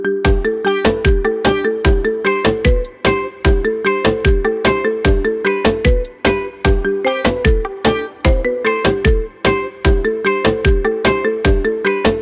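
A marimba remix ringtone of a song plays loud and steady, with bright, rhythmic mallet notes repeating in a bouncy pattern throughout.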